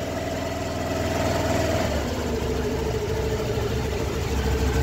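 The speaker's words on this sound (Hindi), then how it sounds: "देखिए दोस्तों हमारी बाइक स्टार्ट हो चुकी है" A Honda Activa 6G BS6 scooter engine idles steadily right after starting on a fresh battery, a close, even, continuous putter with a fine regular pulse and no voices.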